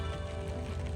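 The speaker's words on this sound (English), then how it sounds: "I went ahead and started watering." Water patters steadily onto garden plants, a dense, even spray without pause, close by, with no voices.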